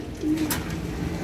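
Pigeons at a pigeon farm, a close soft coo over a steady background murmur, with no talking.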